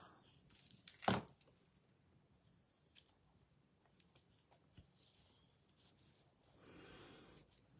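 A single crisp scissor snip trimming overhanging cardstock on a handmade card, followed by quiet paper handling and light rustling on a work surface, faint overall.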